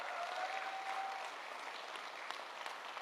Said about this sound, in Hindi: एक बार जोरदार तालियां लेडीज एंड जेंटलमैन